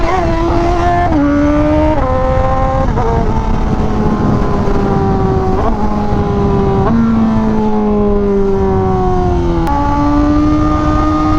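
Honda Fireblade RRR SP motorcycle engine screams at close range through a series of loud revs, each climbing and then stepping down in pitch, with no talking over it.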